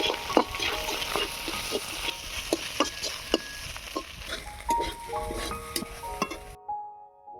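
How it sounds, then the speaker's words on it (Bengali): Fish frying in a pan with green chillies produces a continuous sizzle punctuated by rhythmic spatula taps and scrapes, cutting off abruptly near the end. "মাছটা দেখো মোটামুটি ভাজা হয়ে এসছে"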